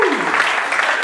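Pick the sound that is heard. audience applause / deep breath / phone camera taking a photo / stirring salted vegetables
audience applause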